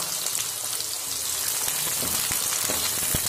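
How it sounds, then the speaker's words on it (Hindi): Green chillies and onions fry in hot oil with cumin, a loud, continuous sizzle with scattered crackles and pops close up. "हरी मिर्ची डाल दी है और अब डालेंगे प्याज"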